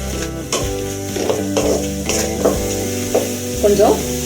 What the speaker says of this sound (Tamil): அப்புறம் தக்காளி பழத்தை போட்டு கொஞ்சம் ஒரு நிமிஷம் கிளறி விடுங்க